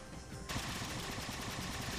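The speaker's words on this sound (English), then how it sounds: "there's a plasma cannon I can use" A Halo 4 plasma cannon fires a rapid, rhythmic stream of pulsing shots. It starts abruptly and keeps a steady, fairly loud cadence for about a second and a half.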